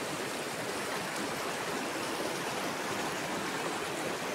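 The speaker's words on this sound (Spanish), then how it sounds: "Chao, río." A river stream flows steadily in Arrayanes, a constant broadband rush of water, close and even throughout with no voices.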